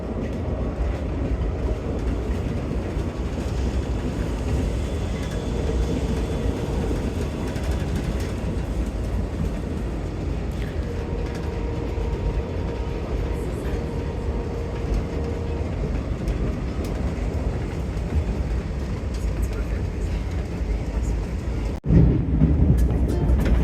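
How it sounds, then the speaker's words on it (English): VIA Rail Siemens Venture passenger train riding the tracks past Casselman, heard from inside as a steady loud low rumble and rolling hum throughout, with a brief sharp jolt near the end. "There is a stop for VIA Rail trains in this town, but this train is not going to stop here."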